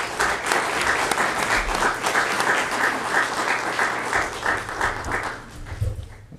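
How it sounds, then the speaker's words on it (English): A forum audience at a chamber of commerce event gives a full round of applause, dense continuous clapping at steady volume with faint crowd murmur, tapering a little near the end. "How about another nice round of applause for everyone?"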